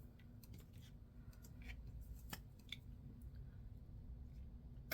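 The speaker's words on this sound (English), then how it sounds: "I think this one I'm going to cut so it's a bit shorter." Faint, brief snips of scissors trimming a vintage paper rose for a hair comb decoration, a few light cuts and rustles over a low background hum, with no talking.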